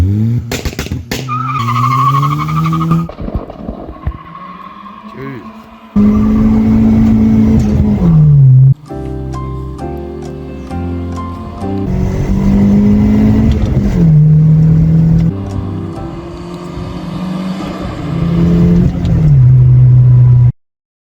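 A turbocharged Nissan K11 Micra accelerates hard from 0 to 60, its engine revving up through repeated climbs, dropping at each gear change and then climbing again, loud and close with no talk.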